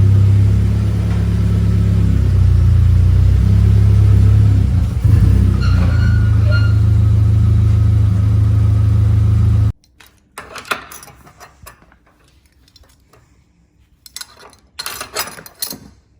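Seat Ibiza FR with a 1.8T engine on a dyno: a loud, steady engine drone with a shifting pitch midway, then it stops abruptly, leaving faint clicks and handling noises.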